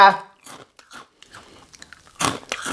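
Baked crispy Shovy fish sticks break with sharp, hard crunches, including a loud burst of bites near the end, set between stretches of talking.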